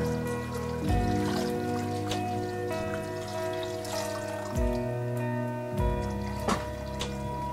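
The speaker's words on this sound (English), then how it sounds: "So all the vegetables are in the pot and we cover the pot with water. Nice cold water." Cold water runs steadily into a soup pot full of vegetables for a delicata squash soup, a close, continuous trickling pour with a few brief louder splashes and gurgles along the way, with no talking.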